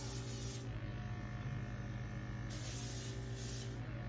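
Aerosol paint hissing out in two bursts, a short one then a longer spray, close by over a steady low hum.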